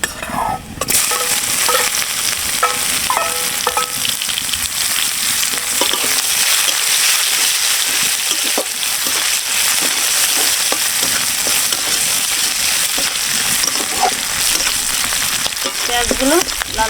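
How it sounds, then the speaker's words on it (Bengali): Onions fry in hot oil in a pan, sizzling loudly and steadily throughout with occasional stirring scrapes and clinks, close and alone. "পেঁয়াজগুলো লাল লাল করে সুন্দর করে ভেজে নেব।"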